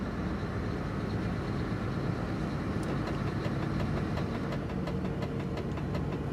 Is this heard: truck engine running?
yes